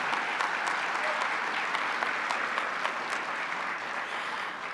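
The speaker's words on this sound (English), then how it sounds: "Let's give them another round of applause." An audience at a gala gives sustained applause for a live band, with dense, even clapping filling the room at steady loudness for several seconds.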